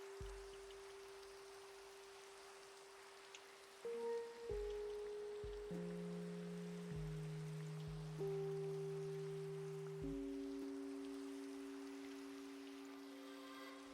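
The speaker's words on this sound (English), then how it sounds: "the wonderful, peaceful sounds of rain" Steady, soft rain hisses in Minecraft while sustained musical tones shift beneath it; the rain stays even and gentle throughout.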